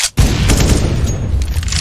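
A bomb detonating in a video game, a sudden loud, sustained blast and rumble right after a brief silent gap, filling the whole moment with dense roaring noise.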